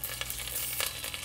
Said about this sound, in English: Now to this I'm adding curry leaves.